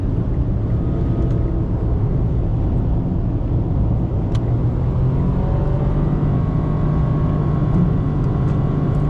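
A 2024 Mitsubishi Mirage's small engine drones steadily under acceleration in sport drive mode, a continuous low rumble heard from inside the car with rising tonal whine and no talking.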